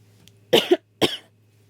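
Two short, harsh coughs in quick succession, close and fairly loud, then quiet.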